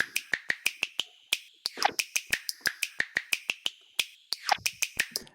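Crisp finger snaps repeat in a quick, steady rhythm, close and dry, with a couple of brief rustling accents in between.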